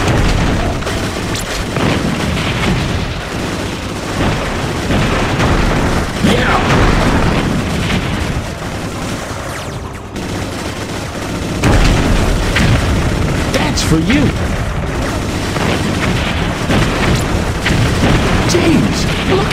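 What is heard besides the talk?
explosions in a video game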